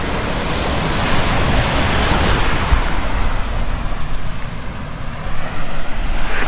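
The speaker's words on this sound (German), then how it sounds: "Auch hier stürmisch. Ziemlich hoher Wellengang teilweise." Stormy, fairly high sea surf rolls onto a narrow beach at Wang Thapan Yai, a steady loud broadband roar of breaking waves and wind with no talk over it.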